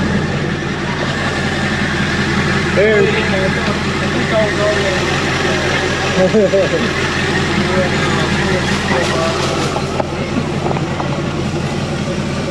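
A 351 big block engine in a boat runs steadily at idle, a continuous low rumble throughout with faint voices and some background noise mixed in.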